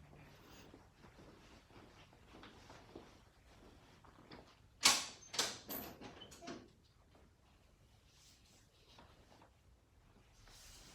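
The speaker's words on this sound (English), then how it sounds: "I'm going to pull the side rail up" A hospital bed side rail pulled up, a quiet lead-in followed by a sharp metallic clack and a short run of creaking, ratcheting clicks, then quiet again.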